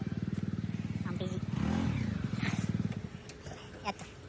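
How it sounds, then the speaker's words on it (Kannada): A motorcycle idles and revs nearby as it is parked, its engine rumble steady and loud before easing off, with people talking over it. "ಗಾಡಿ ಪಾರ್ಕಿಂಗ್"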